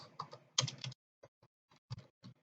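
Typing on a computer keyboard, close and quiet: a quick run of keystrokes, then sparse separate clicks.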